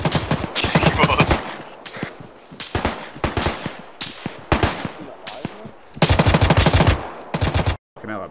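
Repeated machine gun fire from ARMA 3 combat, loud bursts of rapid shots throughout, with heavy clusters near the start and again toward the end, alongside scattered single shots and distant gunfire.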